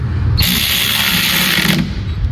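A ratchet clicks rapidly and steadily for about a second and a half as it tightens valve cover bolts, sealed with gasket sealer, on a Lexus IS200t, RC200t or IS300, close and loud over a low background rumble.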